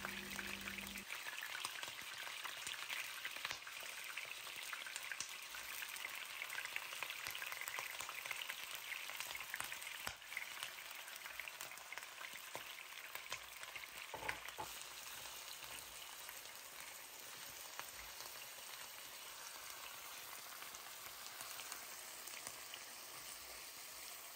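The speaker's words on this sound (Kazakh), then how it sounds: "Осылайша қыздырып алып, кесектеп турап алған етімізді жуып тазалап саламыз." Chopped chunks of washed meat fry in hot oil in a pot for goulash, a steady crackling sizzle with scattered pops and occasional stirring, continuous and fairly close with no talking.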